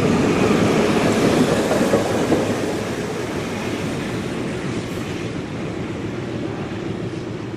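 Diesel locomotive 4520 hauls a heritage train past at Steamfest in East Maitland, with a loud, continuous rumble and roar and rail clatter that eases slightly as it goes by.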